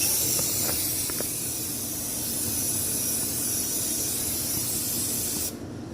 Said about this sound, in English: Sprayed a little cleaner on it.